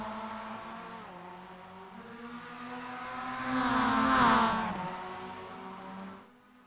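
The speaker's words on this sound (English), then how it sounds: "You can hear the revving of these little motors. Hear them pinging off the rev limiter." Several small MX-5 Cup race car engines in a racing simulator whine and rev in layered tones, rising to a louder peak and bouncing off the rev limiter before fading slightly.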